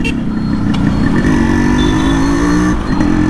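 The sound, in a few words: motorcycle chamber exhaust revving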